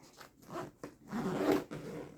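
A zipper runs along a compact bag of travel art supplies in a few quick, close rasping strokes, the last one longer and louder.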